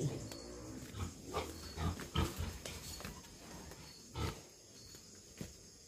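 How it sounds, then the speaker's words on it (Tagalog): Pigs at a rural hut in the Philippines toward evening, grunting and snorting in a string of low, moderately close bursts over steady background noise, with no one talking. "Marami pong baboy ang mga tao dito."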